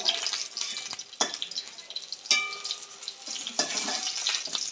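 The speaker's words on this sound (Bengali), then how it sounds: "দেখো আমার বেগুনটাও প্রায় ভাজা হয়ে এসছে।" Eggplant frying in oil in a pan gives a soft, steady sizzle, with occasional stirring clatters against the pan, fairly quiet and close.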